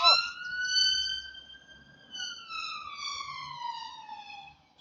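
Wailing emergency vehicle siren, likely an ambulance, sweeping up and down in pitch as it passes fairly close, with faint background noise and no talk.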